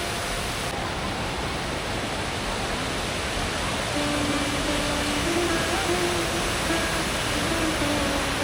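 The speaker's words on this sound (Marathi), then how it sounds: "नदी बघा तुडुंबा वाहते कशी." A swollen river at Tungareshwar runs in full flood, giving a loud, steady, unbroken roar of rushing water that fills the whole stretch, with a faint voice briefly surfacing midway.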